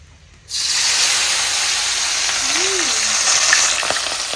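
Fish frying three at a time in very hot oil, a loud steady sizzle and hiss that bursts on suddenly and carries on close by, with a brief faint tone near the end.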